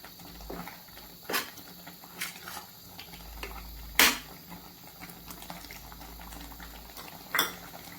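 Tomato gravy boiling in a pan, a soft steady bubbling and simmer broken by several sharp clinks of a utensil against the pan, close and fairly quiet, no talk.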